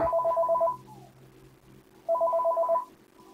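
A telephone rings in Five Nights at Freddy's 3 at the start of the third night, two bursts of a warbling electronic ring separated by a short pause, clear and alone.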